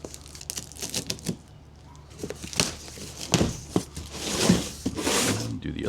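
Close crinkling and tearing of a kayak cart's packaging in short bursts, plastic rustling and ripping while someone talks quietly in between.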